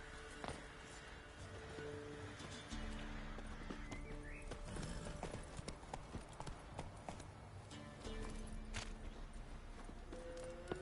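Roach, the horse in The Witcher 3, clip-clops along in a steady walking rhythm of hoof strikes over a constant bed of game ambience.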